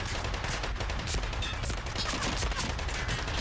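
Dense, continuous gunfire in the Medal of Honor: Pacific Assault video game, a rapid rattling fusillade of overlapping shots and bursts throughout, loud and close, with no voices.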